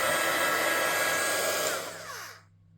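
A heat gun melts embossing powder on a stamped motif, blowing a loud, steady whooshing roar close by that winds down and cuts out near the end.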